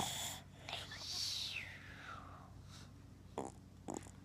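A young child imitates grandpa snoring, voicing a long wheezy rising-and-falling snore followed by a couple of short snorting breaths, close and fairly quiet indoors.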